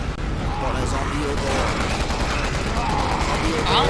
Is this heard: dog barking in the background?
no